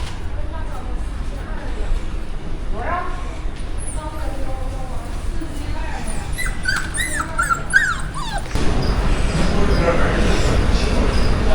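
Dogs in a pet shop at a Chinese pet market whimper and yip in short, high, scattered cries over a busy ambient hum, with people talking nearby and a louder rumble toward the end.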